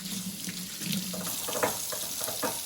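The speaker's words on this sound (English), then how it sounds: "first thing we have to do to get started is wash our hands" Tap water running into a sink during handwashing before preparing chips with cheese and guacamole, a steady close splashing stream with light clatter and rubbing of hands under the flow.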